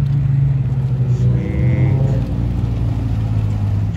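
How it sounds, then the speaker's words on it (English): A Subaru WRX rolls around at an informal car meet, its engine making a steady low drone and rumble that stays close and continuous, with no talk over it. "WRX coming around."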